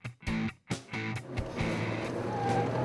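A front-wheel drive Volkswagen Polo at a rally hill climb in Western Australia, its engine barking through a few sharp revs and gear changes before settling into a steady, loud, close drone.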